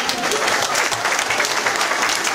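Strong, steady applause from the audience at a village goose-night event in Çanaksu, dense clapping that holds evenly at close range for the whole stretch.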